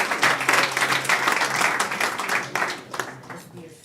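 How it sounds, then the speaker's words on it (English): Audience at a young chef cooking competition breaks into sustained applause, a dense wash of clapping that tapers off toward the end, with a voice faintly underneath. "I will ask to give her a round of applause."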